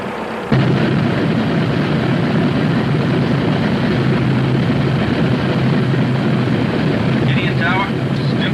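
B-29 bomber engines readying for takeoff on a wartime island runway, a loud continuous roaring rumble starting abruptly and holding steady, with a brief radio-like voice near the end.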